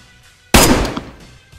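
A single loud, close gunshot fired in the zombie-survival video game DayZ Standalone, a sharp blast with a decaying tail after a quiet moment, with no voices during the shot.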